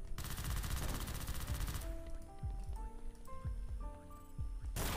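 Rapid automatic gunfire in a shooter video game, a dense rattling burst for about two seconds, then scattered single shots and game effects before another burst at the end.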